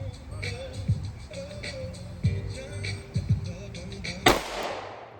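Three sharp reports from a micro pistol fired flat in the hand ring out at a steady pace, each a close, loud crack, with a brief faint voice between shots.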